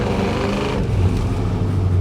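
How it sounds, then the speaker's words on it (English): Gold 1967 Chevrolet Impala with a 396 V8 revs hard up close, the deep, throaty exhaust note rising and holding steady through a short burst with no talking. "gold poly massive Impala making that incredible noise"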